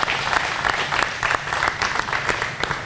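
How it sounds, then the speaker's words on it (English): An audience gives a warm round of applause for a community policing coordinator being honored by the Moorhead Police Department, a dense, steady clatter of many hands close by. "big round of applause here today"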